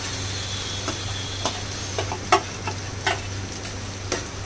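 Onions with tomato gravy for chole fry in oil in a pan, a steady low sizzle under scattered clicks and scrapes as a spoon stirs every half-second or so, with no talk.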